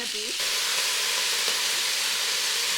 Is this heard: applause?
no